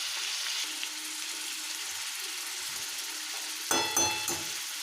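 Bengali mustard drumstick curry with tomato, turmeric and green chili paste sizzles steadily in a pan, with a few louder scraping clinks of stirring near the end.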